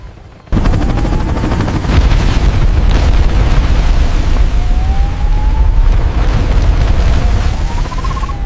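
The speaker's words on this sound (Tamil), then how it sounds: "எரிமலை வெடிப்பு கட்டுப்பாட்டை மீறுகிறது" A sudden deep blast of a volcanic eruption breaks into a loud, sustained rumbling roar that continues heavily without letting up.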